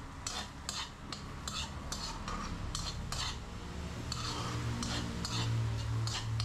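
Sautéing in a pan with garlic and a little oil: a low sizzle runs underneath while a utensil repeatedly scrapes and clinks against the pan in quick, irregular strokes, close and clear.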